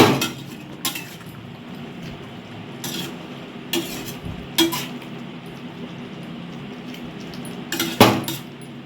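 Koi fish curry with cauliflower is stirred in a pot, the spoon clinking and scraping against the metal in irregular knocks over a faint bubbling simmer, close by with no voices.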